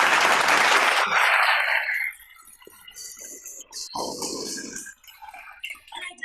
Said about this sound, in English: Can we get some virtual applause, Jay?